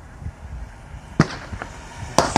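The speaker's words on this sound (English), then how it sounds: "They're shooting him." Sharp gunshots ring out at a man, two distinct loud cracks about a second apart with fainter pops between, over a low rumbling background.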